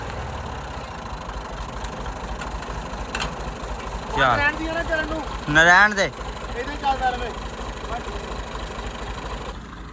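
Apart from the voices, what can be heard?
tractor engine idling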